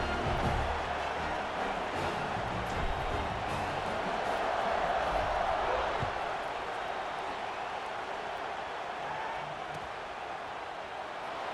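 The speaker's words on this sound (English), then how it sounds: "They're set to kick it off, and this crowd now ready to get behind them." Stadium crowd in a college football video game, Carolina versus Nebraska, roaring steadily at kickoff, a dense continuous cheer at a fairly even level with no distinct voices standing out.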